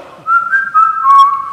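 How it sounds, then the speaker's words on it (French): A person whistles a simple sustained tune, a few clear, close notes gliding between pitches, loud and alone after a soft start. "nous pouvons siffler. Siffler un chant."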